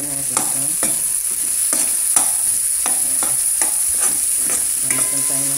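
Cabbage and pechay being stirred in a sizzling pan, a utensil scraping and tossing the vegetables in a steady rhythm of repeated strokes over constant frying hiss, close and fairly loud with no talking.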